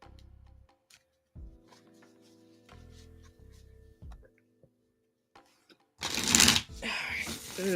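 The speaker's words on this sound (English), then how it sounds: "Nice shuffle." Tarot cards are shuffled close up in short riffling bursts with pauses between, followed by a louder burst of noise at the end.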